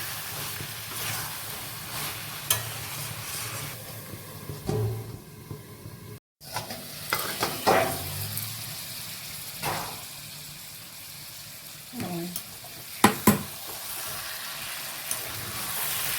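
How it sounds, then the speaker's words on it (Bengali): Vegetables being stirred and sautéed with spices in a pan for a vegetable curry, a quiet steady sizzle broken by occasional scrapes and clinks of the spoon against the pan. "এবারে মশলা দিয়ে ভালো করে কষিয়ে নাড়াচাড়া করে"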